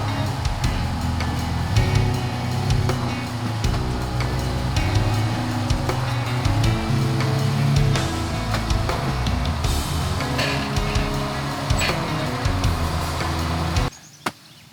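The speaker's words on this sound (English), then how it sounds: "So this might take me a few tries to get the Jeep lined up on the trailer" Jeep driving up onto a car hauler trailer, a steady engine rumble with gear and tire creaks and clunks as it creeps forward, fairly loud and continuous before cutting off abruptly near the end.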